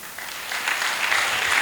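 An audience claps for the singers of a choir at a religious gathering, a brief burst of applause that builds slightly over its short length.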